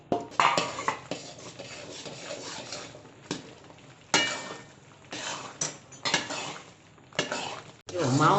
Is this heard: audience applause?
no